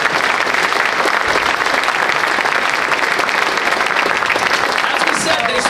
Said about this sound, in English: Let's hear another round of applause for the choir and the band.